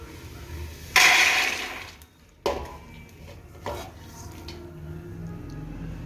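A rattling rush of peanuts poured into a wide metal pan, followed by a few lighter clinks and scrapes in a quiet room.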